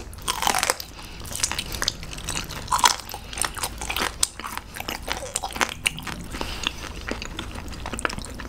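Raw gizzard shad, spoon worm and abalone being chewed close up, with rapid crisp crunches and bites repeating steadily, alone and without talk.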